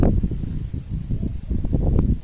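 Cold wind buffets the microphone outdoors in Kropyvnytskyi in a steady low rumble that gusts up and down throughout, with no talking.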